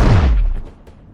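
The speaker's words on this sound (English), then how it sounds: "one of the coolest and most powerful looking animated explosions I think I've ever seen" A powerful animated explosion from the film Megamind, erupting as a loud, deep boom at the start and rolling off into a fading rumble over about a second.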